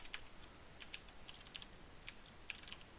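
Steady, close typing on a computer keyboard while entering HTML and CSS code: irregular bursts of light key clicks with short pauses between them, and no speech.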